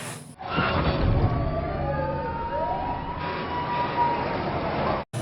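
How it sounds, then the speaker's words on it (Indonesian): A siren wails with rising and falling tones, steady and fairly loud, as a fire engine passes over rumbling traffic noise. "Di tengah perjalanan, Pak Sewon hampir saja menabrak mobil pemadam kebakaran yang sedang lewat dan berpikir apa yang telah terjadi."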